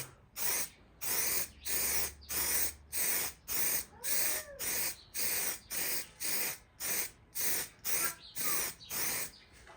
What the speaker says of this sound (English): Now we need to get that primer, so give it a nice good spray.